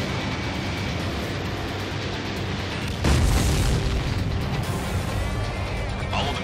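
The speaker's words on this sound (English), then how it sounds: "All of the missiles have been destroyed." Missiles blowing up in the Ace Combat 7 flight combat video game, a dense continuous roar of blasts with a sharp louder burst partway through, sustained rumbling and crackle filling the whole stretch.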